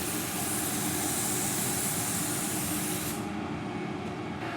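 A spray gun lays a third coat of paint on a panel of a salvaged BMW 535i E60, giving a loud, continuous close-up hiss whose sharpest high edge drops away shortly before the end.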